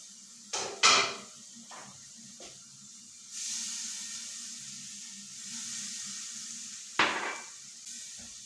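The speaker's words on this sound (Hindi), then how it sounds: "मसाले को अच्छी तरह भून लें।" Spices sizzling and frying in a pan for a Lahori beef trotter curry, a steady hiss broken by a few sharp clinks of a spoon against the pan, near and with no talking.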